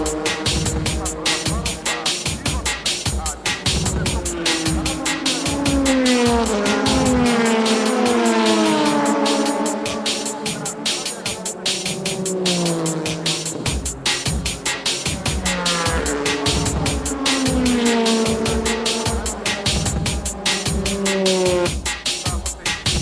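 A first-place Ferrari GT300 race car enters the pits during a JGTC race. Its engine rises and falls in a loud, continuous snarl, with shifting revs and some tyre noise throughout.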